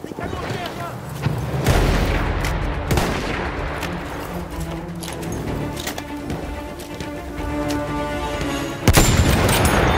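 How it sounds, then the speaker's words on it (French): Deep booming cannon blasts and rumbling gunfire in a Battlefield 1 battle, a heavy hit near the start and another near the end, with voices talking throughout. "Les canons derrière."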